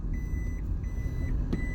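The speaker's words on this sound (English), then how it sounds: "a Prius has a backup alarm on it" The backup alarm of a reversing Toyota Prius beeps outdoors: faint, evenly spaced high-pitched beeps sit under a steady bed of low rumble and traffic noise.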